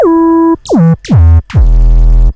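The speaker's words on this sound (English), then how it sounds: "I have a sub bass here, and that just sounds like this" A deep synthesized bass plays a few separate notes, each sliding downward in pitch and ringing with a smooth, heavy tone.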